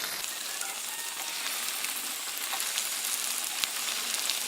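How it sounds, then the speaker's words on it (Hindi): Coated mutton chops frying in hot oil over a medium-low flame, giving a steady, dense sizzle up close that holds evenly throughout with no talk. "ऑयल हमारा गर्म हो चुका है तो मैं मीडियम टू लो फ्लेम पे इन्हें फ्राई करूँगी"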